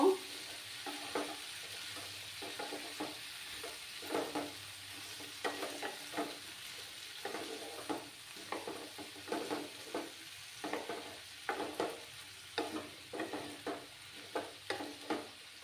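Mixed vegetables and eggs stirred in a frying pan: repeated scraping strokes in a steady, quickening rhythm over a soft continuous sizzle, close up, with no talking.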